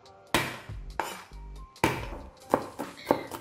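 Five garlic cloves smashed with a flat blade on a board, a series of sharp hard thwacks with irregular spacing and a few lighter taps between them, close and loud, with no talk.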